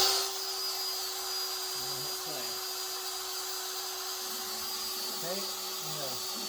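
CNC router spindle running at 16,000 RPM while cutting a guitar fretboard, a steady high-pitched whine with constant hiss and brief shifting tones as the bit engages the wood, close and continuous.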